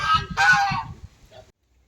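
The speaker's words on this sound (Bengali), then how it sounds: "রিসর্টের নিজস্ব এই হাঁস পালন করা হয় এখানে" Ducks raised at a seaside resort near Bankiput beach let out two short, loud quacking calls close by, followed by a faint trailing call and then quiet.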